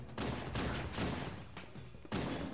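Heavy gunfire in Halo: Combat Evolved, a handful of broad, punchy bursts spaced roughly half a second apart over a constant rumbling background, with no talking.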